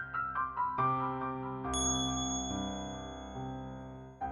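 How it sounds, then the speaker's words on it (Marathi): A single bright phone message notification ding chimes and rings out over soft background music. "शिंदे सरांचा मेसेज"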